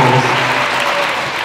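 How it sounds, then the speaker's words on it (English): Steady, loud applause from a school concert audience filling a hall, dense and continuous without a break. "please, an extra round of applause for these incredible illustrators."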